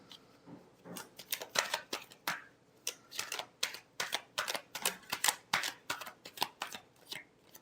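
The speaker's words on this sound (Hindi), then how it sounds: "Last shuffle." Tarot cards get a final shuffle, a close series of sharp papery slaps and riffles in uneven bursts, fairly loud with no voices.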